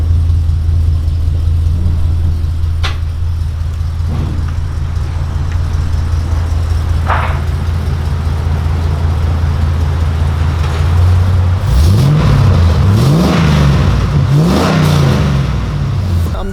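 A GMC pickup truck with a new exhaust idles with a deep, steady rumble, then revs several times near the end, each push of the throttle swelling loud and throaty.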